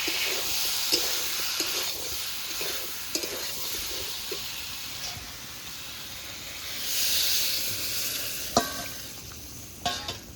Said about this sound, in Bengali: আলুটা কষানো হয়ে গেছে, এবার ডাঁটাটা দিয়ে নেড়ে চেড়ে জল দিয়ে দেব।